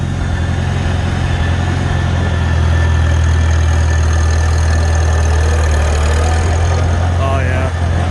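An International Harvester Super C tractor engine runs steadily and loudly close by, with a constant low drone and a higher gear whine running over it.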